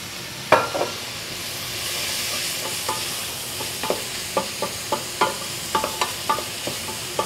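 Vegetables sweating gently in a pot for potato soup, a soft steady sizzle with regular scraping clinks as a spoon stirs them, close by and with no talking.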